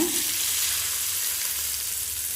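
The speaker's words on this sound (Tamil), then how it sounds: "கடுகு, உளுந்தம்பருப்பு, காஞ்ச மிளகாய், 2 கருவேப்பிலை போட்டு தாளிச்சிருக்கேன்" Mustard seeds, urad dal, dried chillies and curry leaves sizzle in hot oil as a tempering for mango peel chutney, giving a steady, loud, close hissing fry with no voices.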